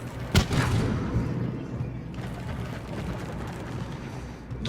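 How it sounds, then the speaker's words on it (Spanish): Gunshots ring out in a Mass Effect 3 combat zone: one sharp, loud crack opens, then scattered thuds and distant fire follow over a low rumbling background. "Hay disparos."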